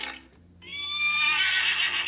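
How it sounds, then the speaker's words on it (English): A Spirit toy horse lets out an electronic, whinnying neigh after a light press of the button on its back; the recorded call is loud, close and fills most of the moment. "if you press it lightly, he just neighs"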